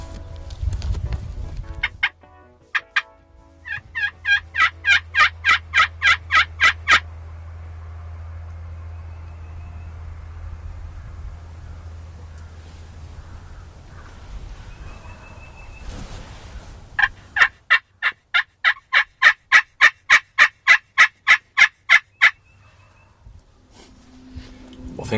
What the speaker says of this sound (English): We just had another tom start gobbling back behind us.